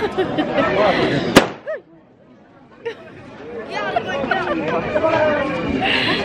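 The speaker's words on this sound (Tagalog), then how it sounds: "kaya takot na takot kapag nakakarinig ng paputok dito" Lively crowd chatter at a wedding in Pakistan is broken by one sharp, loud firecracker bang, then a brief hush before voices and babble build up again.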